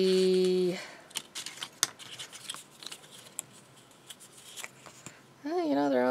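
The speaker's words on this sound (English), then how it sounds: "So I'm going to cut that strip off there" Scissors snip through a strip of quilting fabric for binding, a few close, brief crisp cuts and rustles at a quiet worktable, with speech heard at the start and end.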